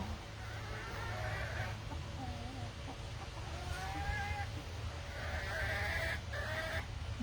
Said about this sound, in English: So at least the chickies are talking to me today.